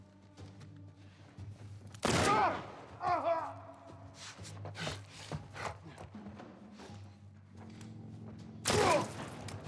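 Gunfire in The Last of Us Part 1: two loud sharp blasts a few seconds apart with thuds and rustling mechanical noise between them, and brief vocal exclamations.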